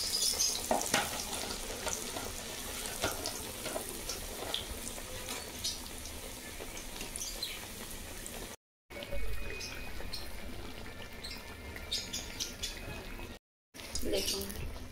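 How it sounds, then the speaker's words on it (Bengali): A banana dipped in gram-flour batter sizzles and crackles steadily in hot oil, a continuous close frying hiss with occasional stirring clinks and a voice talking over it. "আর একটা কলা নিলাম, বেসনের মধ্যে ডুবিয়ে তেলের মধ্যে ছেড়ে দেবো।"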